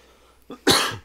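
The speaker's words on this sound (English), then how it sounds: "Sorry for the random coughing." A short throat catch followed by one loud, forceful cough right at the microphone, trailing off into a breathy rasp.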